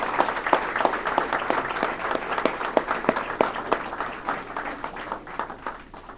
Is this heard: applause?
yes